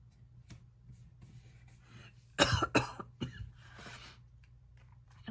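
A person with asthma coughs twice in quick succession, loud and close, followed by a softer throat-clearing cough, with quiet rustling and faint tapping around it.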